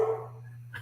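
A dog gives one short yip or bark, close and fairly loud, then fades into quiet over a low steady hum indoors.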